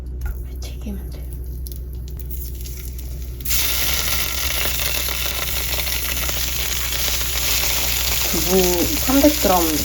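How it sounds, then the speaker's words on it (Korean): Starch-coated tofu drops into hot oil and breaks into a loud, steady sizzle about a third of the way in, crackling continuously to the end while a voice speaks softly near the close. "튀기면 돼요."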